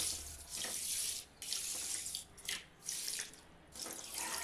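Water is poured onto sugar in a wok to make syrup, a close, splashing gush that comes in several surges with brief dips between them.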